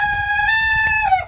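A rooster crows once nearby, a loud sustained harmonic call that holds steady and then drops at the end, over faint background noise.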